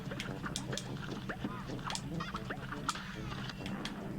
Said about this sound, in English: I've got the geese coming.